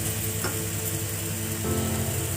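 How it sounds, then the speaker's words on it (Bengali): Chana masala spices sizzle steadily in a hot pan while being stirred, giving a close, continuous frying crackle with no voices. "দিদি নাড়ছে"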